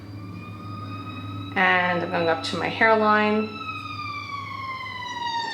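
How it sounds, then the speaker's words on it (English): Fire engine sirens wail in the distance, a steady tone that carries through a quiet room. Partway through, a nearby voice briefly talks over them. "Ooh, we have some fire engines."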